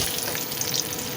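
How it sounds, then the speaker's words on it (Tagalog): Garlic, onion and other aromatics sauté in hot oil, giving a steady, close, broadband sizzle and crackle that lasts the whole short moment with no talk. "Sigisa na natin yung mga ricado."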